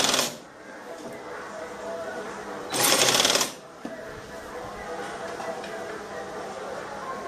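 A sewing machine stitches a nighty in two short, loud whirring bursts, with quieter stretches and faint talk in between.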